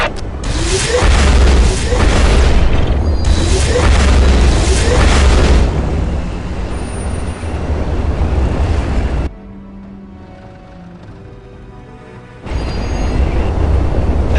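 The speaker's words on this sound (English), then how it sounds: "Whirlwind artillery tank here." A Whirlwind artillery tank in Warhammer 40K Dawn of War fires several loud, booming rocket volleys with rumbling impacts, then drops to a quieter lull before another loud burst returns.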